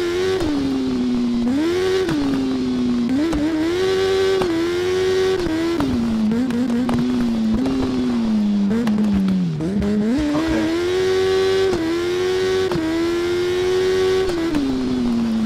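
Racing motorcycle engine in the TT Isle of Man: Ride on the Edge video game, loud and continuous with rising and falling revs and quick gear-shift dips, dense and unbroken throughout.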